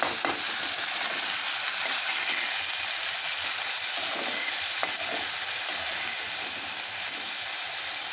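Pulao ingredients, including soaked puffed rice, are stirred and fried in a pan, making a continuous close sizzle with soft scraping stirs and no talk.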